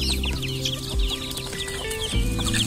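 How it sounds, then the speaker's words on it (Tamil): Village roosters and hens cluck close by in a continuous, overlapping chorus of short repeated calls, with a low steady hum beneath them. "எல்லாம் சேவல் அப்புறம் வந்து பொட்டை கோழி வெடை கோழி எல்லா கோழி இருக்குங்க"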